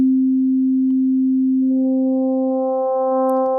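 Ableton Wavetable synth in FM warp mode sustaining a single pure tone that gradually gains bright harmonic overtones as the modulation increases, loud and alone.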